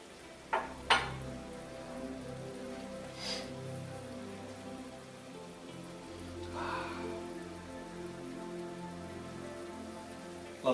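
Shrimp scampi with lots of garlic and Pinot Grigio simmering in a pan, a steady soft bubbling sizzle throughout with a few faint clinks of utensils against the pan.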